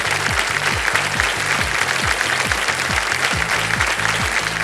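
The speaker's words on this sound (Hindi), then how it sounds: "ताली भी बज गई जनता की ओर से" Studio audience applauding on a television quiz game show, steady dense clapping throughout at a loud, even level with rhythmic music pulses beneath it.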